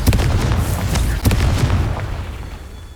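Fire-spell blasts from Hogwarts Legacy, heavy booming explosions that open with a loud burst, a second sharp detonation near the middle, then a rumbling tail fading out with no talk over it.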